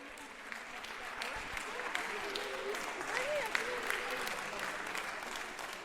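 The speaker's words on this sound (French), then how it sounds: "Dès la première semaine du procès, ces applaudissements résonnent dans le tribunal." Applause resounding in a courtroom during a trial, a soft, fairly distant round of clapping from a crowd with voices murmuring through it.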